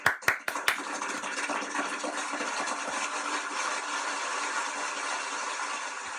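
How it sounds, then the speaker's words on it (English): A recorded round of applause, played on request by an Alexa smart speaker, opens with a few sharp claps and then settles into a steady, dense wash of clapping that carries on evenly to the end. "Alexa, can I have a round of applause,"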